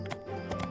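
In My Time at Portia, a horse's hooves clip-clop in a brief, quick patter over a steady game background hum.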